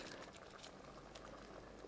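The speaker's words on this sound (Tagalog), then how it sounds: "Ayan, kumukulo-kulo na." Pork with chocolate flavoring simmering in a pan, a steady low bubbling hiss with soft popping throughout, close and quiet, no voices.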